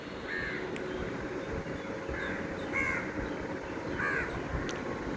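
Crows caw repeatedly in short harsh bursts, some overlapping, while being fed rice in an outdoor area where peacocks also feed, over a steady loud rushing background.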